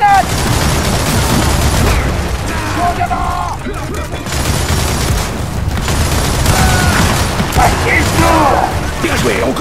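Troika mounted machine gun in Gears of War 4 firing in a dense, continuous roar of gunfire and mechanical clatter, with explosive booms and crashes layered throughout a loud battle scene.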